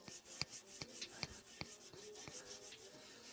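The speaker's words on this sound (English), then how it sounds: "I'm just getting this surface rust off" Rhythmic scrubbing of surface rust off an old cast-iron potbelly stove, a series of faint dry rasping strokes at a steady pace, each with a short scraping attack, quiet and close.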